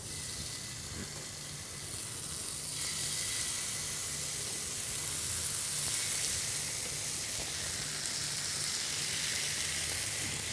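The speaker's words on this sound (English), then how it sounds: "So now you see it's like sizzling, nice and great." Steady crackling sizzle of paneer cooking in a preheated tandoor, a continuous close hiss that swells slightly, with no talking.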